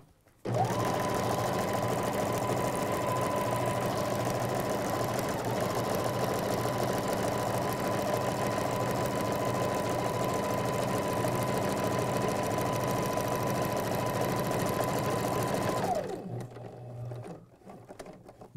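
A sewing machine stitching a regalia jacket, running in one long continuous burst of steady, close mechanical whirring before stopping near the end.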